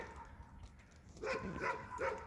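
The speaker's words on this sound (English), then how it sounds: "My neighbor's dog is saying hi." A neighbor's dog barks from a nearby yard beside a home garden, giving three short, fairly faint barks in quick succession after a quiet stretch of outdoor background.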